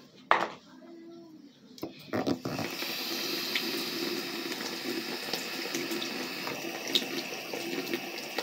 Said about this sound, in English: who put water on their toothbrush first, then brush their teeth?